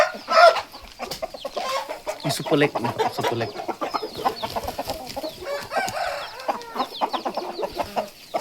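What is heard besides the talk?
chickens clucking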